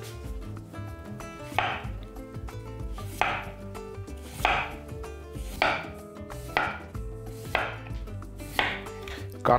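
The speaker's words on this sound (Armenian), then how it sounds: "Կարտոֆիլը կտրատում ենք բարակ շերտերի։" Potatoes sliced thin with a knife on a cutting board for an Armenian potato casserole, giving a steady series of crisp, close chopping strokes that repeat roughly every second, with a faint kitchen hum underneath.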